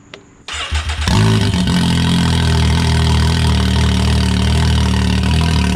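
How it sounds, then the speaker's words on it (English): A Can-Am X3 UTV engine cold-starts: cranks briefly, catches, and roars into a loud, rough idle through an open exhaust valve, steady and close. "I'm gonna turn on the exhaust valve so CJ can get a little cold start for us"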